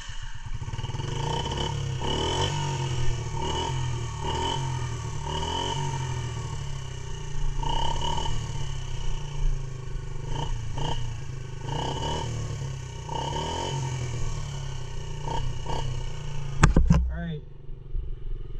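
A Yamaha TTR50E kids' dirt bike on a trail, its small engine droning steadily and surging in repeated revs, with people talking over it.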